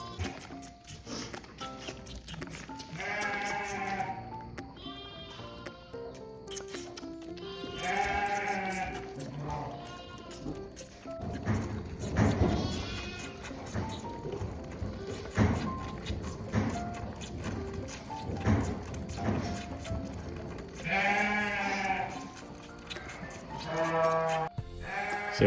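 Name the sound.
lambs bleating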